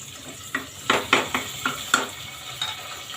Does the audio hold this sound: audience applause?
no